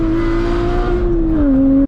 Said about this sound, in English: my favorite thing about this car is the sound.